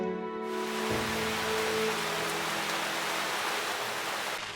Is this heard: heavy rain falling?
yes